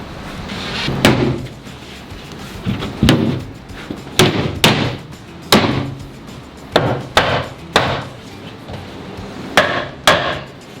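Plywood panels being fastened to the wooden frame of a 2,500-gallon freshwater pond, sharp loud hammer-like whacks landing irregularly, singly and in quick pairs, over a low background hum with no talking.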